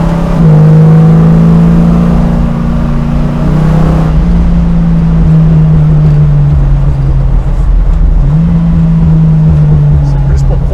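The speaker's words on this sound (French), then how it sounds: "C'est plus pour profiter du son du moteur." Dodge Charger V8 engine revving and pulling away, a loud deep drone that climbs in pitch, drops at a gear change and climbs again, sounding close throughout.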